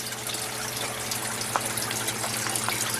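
Steady rush of running water over a low, constant submerged pump hum in a water-filled tub of a hydroponic drip system, continuous and fairly close.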